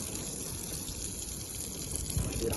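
Water poured over a car windshield treated with a rain-repellent product, a soft continuous gushing and trickling runoff, fairly quiet and even, with a slightly stronger splash near the end.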